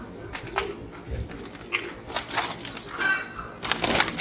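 Soft cooing of Silver Bezi pigeons mixed with rustling and scattered bird noises, fairly close, with a few brief louder bursts.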